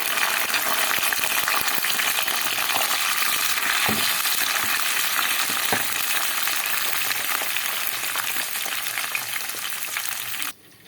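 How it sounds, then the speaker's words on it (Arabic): Peppers frying in hot oil after eggplant, a loud dense crackling sizzle running steadily with occasional stirring knocks, cutting off just before the end. "انا خلصت قلية البتنجان وبرضه هحمر الفلفل"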